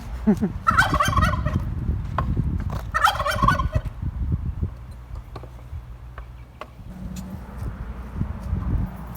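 A Royal Palm turkey tom gobbles twice in quick, loud bursts close by, followed by rustling and soft low sounds outdoors.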